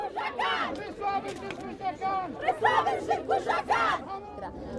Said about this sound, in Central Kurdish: ئەم ژنانەش لە جەنجاڵترین و قەرەباڵغترین شوێنی ناوشاری سلێمانی هاوار دەکەن